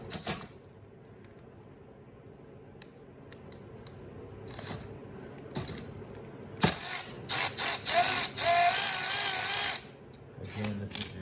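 A ratchet fitted with a 10 mm socket removes the chain tensioner from a 70cc dirt bike. Brief clicks come first, then a loud, rapid burst of ratcheting clicks close up, with a few tool knocks after it and no talking.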